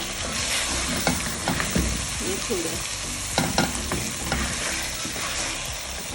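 Boiled potatoes and eggs fry in a masala gravy in a pan, with a steady close sizzle broken by the clatter of a spoon stirring at intervals. A brief word is spoken once over the cooking.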